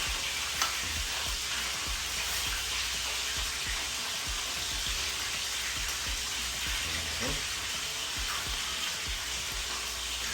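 Peeled breadfruit roasting, a dense continuous crackling sizzle held close and steady throughout, with occasional faint knocks and pops mixed in.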